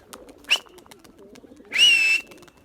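Young pigeons give two short cooing calls, a brief one followed by a longer, louder one, close by against quiet surroundings with faint background knocks.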